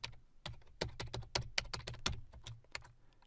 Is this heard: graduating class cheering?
no